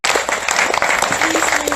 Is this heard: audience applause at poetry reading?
yes